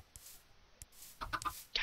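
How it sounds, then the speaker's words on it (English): A Minecraft chicken clucking in-game: short soft clucks and clicks early, then a louder burst of bird-like clucking toward the end, with no talk. "Chicken!"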